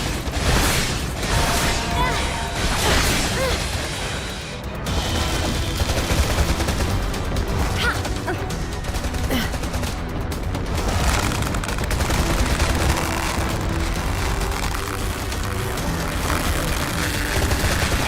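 Rifle gunfire in the video game Freedom Wars, rapid bursts of shots and impacts layered over dense battle noise and game effects, loud and continuous throughout.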